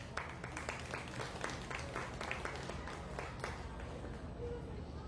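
Audience applause at a dairy and pygmy goat show, a steady patter of scattered claps across the whole stretch, fairly faint and distant, with murmuring crowd noise underneath.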